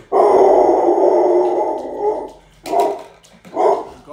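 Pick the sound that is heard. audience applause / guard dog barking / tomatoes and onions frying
guard dog barking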